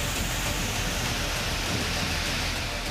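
Heavy rain in Kerala's Kannur district pours down in a dense, continuous hiss, steady and loud throughout with a low rumble beneath, and no voices over it.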